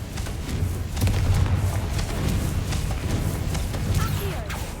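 Booming, thudding blasts from the Confringo fire spell in Hogwarts Legacy, dense repeated explosions rolling through the clip, loud and close, with a voice shouting over them.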